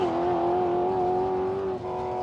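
A manually shifted Falcon and a late-model Volkswagen Golf with an 8-speed automatic drag racing at Palmyra Raceway, Australia, a loud sustained engine drone with a steady rising tone that dips briefly near the end, likely a gear change.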